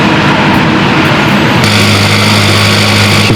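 Kia Carnival hybrid engine running after an oil and filter change: a loud, steady, close mechanical drone with a constant hum that settles into a smoother tone partway through, no voices.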